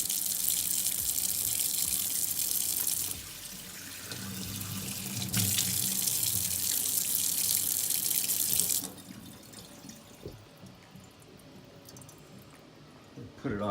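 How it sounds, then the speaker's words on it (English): Water from a kitchen faucet runs over a coffee filter, a steady broadband rush that drops in level and changes tone partway through, then fades to quieter dribbling and trickling near the end. "turn on the faucet here"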